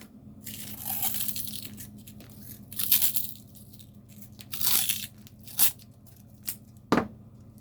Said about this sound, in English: Regular masking tape. And then you do like this.